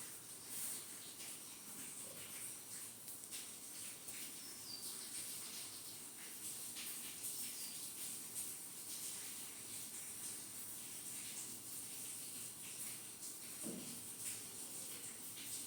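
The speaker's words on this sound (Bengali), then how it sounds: "আমি লবণ মাখিয়ে চিংড়ি মাছটা ভাজতে দিছি" Shrimp rubbed with salt frying in hot oil, a steady dense hiss and crackle with scattered sharp pops running continuously throughout, with no talking over it.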